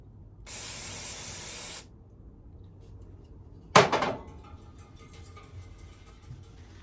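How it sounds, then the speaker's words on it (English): A steady hiss of parts cleaning fluid sprayed on a 1986 Honda CT110 filter screen lasts over a second, then after a pause a sharp clack and rattle of something set down, followed by faint handling noise. "We'll just take the filter screen with a little parts cleaning fluid, spray it out from both sides."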